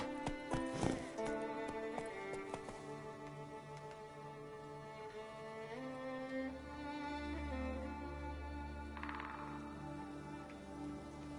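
Horse hooves clip-clop in The Witcher 3 as a steady walking rhythm under game music, moderately loud and close.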